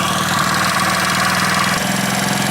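Loud and near, a Hero Splendor motorcycle engine runs at a slightly raised idle, its rapid, steady pulsing thrum holding even throughout with a faint shift in tone near the end and no talking.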